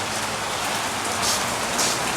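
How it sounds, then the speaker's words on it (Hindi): Heavy rain falls outside in a dense, steady hiss that swells slightly in places, close and loud, with no voices. "बाहर देखो कितनी भयंकर बारिश आ चुकी है भाई"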